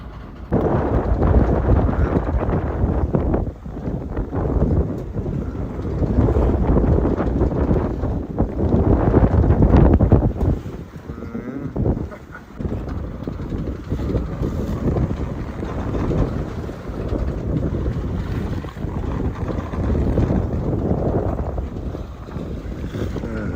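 A sailboat beats into a headwind between Grenada and St Lucia, loud gusting wind buffeting the microphone over rushing water and waves against the hull, continuous with a brief lull partway through.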